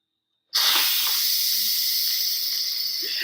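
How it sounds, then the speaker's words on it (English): Steam bursts from the pressure-release valve of a Pampered Chef Quick Cooker cooking chicken teriyaki and rice, a sudden loud, close hiss that starts sharply and holds steady without fading. "you push the button and the steam releases out that way"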